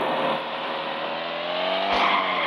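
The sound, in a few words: car drifting and skidding in a car crash physics video game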